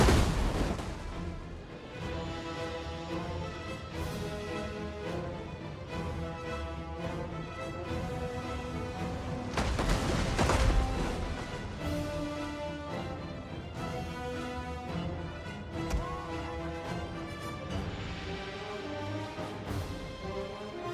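Ballistas firing during a very hard Rome campaign battle for Jerusalem in Total War Rome 2, with repeated booming launches and impacts layered over a dense, continuous battle din and game music, steady and loud throughout.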